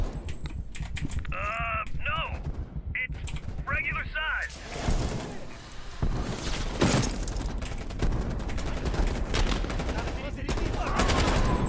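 Gunfire rings out in a Cold War campaign video game on realism difficulty, sharp shots and bursts crowding the mix over steady game noise, with people talking throughout.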